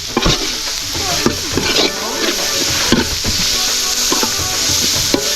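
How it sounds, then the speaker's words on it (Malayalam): Green chilli and curry leaves stirred and sautéed in a hot pan while cooking a spicy Bellary beef rib curry, with a steady loud sizzle and repeated scraping strokes of the spoon throughout. "ചെറിയ അങ്ങോട്ട് ഇളക്കി അങ്ങോട്ട് കൊടുക്കുക കേട്ടോ വരട്ടി എടുക്കണം"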